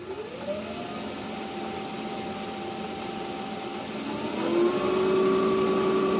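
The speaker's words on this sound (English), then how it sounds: "I hear a whine from the motor" A motor spins up with a steady tonal whine that climbs in pitch as the speed rises toward about 2000 RPM, then jumps higher and grows louder near the end. The whine rides over a constant hum with no talking.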